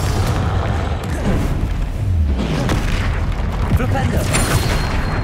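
Spell explosions from the Confringo fire curse in the Hogwarts Legacy video game, heavy booming blasts rolling continuously under dense game music and combat effects, with a voice calling out the spell.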